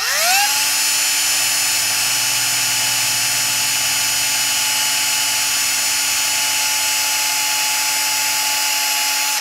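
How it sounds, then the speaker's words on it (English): A power drill bores a hole into a VW Bug engine, its motor spinning up to a loud, steady high-pitched whine that holds unbroken and close throughout. "Let's get a hole drilled next to where all the crud is."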